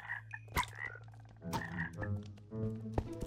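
Frogs in Minecraft croak in a run of close, resonant, throaty calls, several overlapping bursts in quick succession with short pauses between them.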